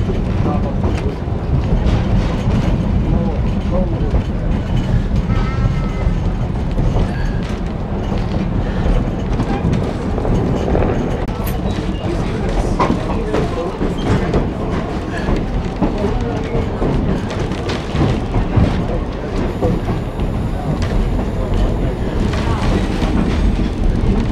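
Riding aboard the 1880 Train steam engine between Hill City and Keystone, South Dakota: a steady, loud rumble of rolling cars and clattering wheels fills the whole stretch, with faint squeals and rattles over the constant roar.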